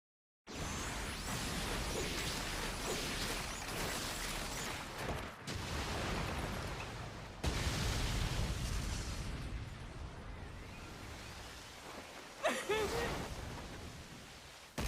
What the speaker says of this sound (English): that was just the pre-explosion